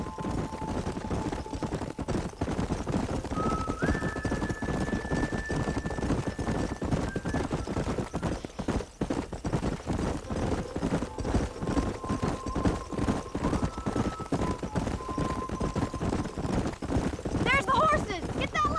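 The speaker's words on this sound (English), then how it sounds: "There's the horses!" Horses' hooves clip-clopping steadily in Red Dead Redemption, a continuous rhythmic trot under game music and occasional spoken dialogue, with a brief whinny near the end.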